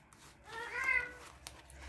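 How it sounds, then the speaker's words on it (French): A house cat gives a single drawn-out meow, moderately close and fairly soft, over a quiet room hum. "Désolée pour le chat, comme d'habitude"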